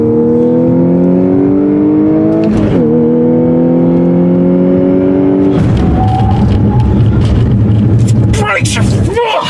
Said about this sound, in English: This is a fun car.